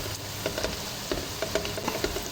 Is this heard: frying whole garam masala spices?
yes